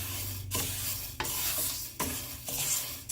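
Black gram (urad dal) dry-roasts in a heavy-bottomed flat pan, with a steady soft sizzle and a rhythmic scraping stir about every half to three-quarters of a second, close and moderately quiet.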